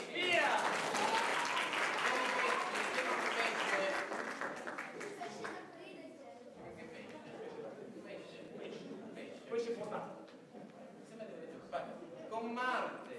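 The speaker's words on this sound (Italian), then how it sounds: "Un applauso a tutti i pesci." Audience applause at an amateur theatre company's stage show, dense clapping strongest in the first few seconds, then thinning and fading under a voice that carries on speaking.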